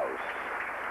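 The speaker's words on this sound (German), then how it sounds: "Berechtigter Applaus" Tennis crowd at a 1981 match applauding a point, a short burst of quiet, even clapping heard from a distance and low in level.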